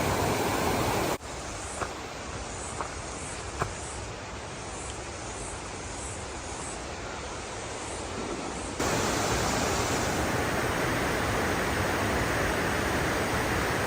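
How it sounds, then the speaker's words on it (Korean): Fast-flowing stream water rushes below a tall waterfall near Waiau Pass in New Zealand, a dense steady roar that stays close and loud, growing slightly fuller near the end, with a few faint knocks early on. "이곳도 역시 아주 빠르게 흐르는 물살입니다."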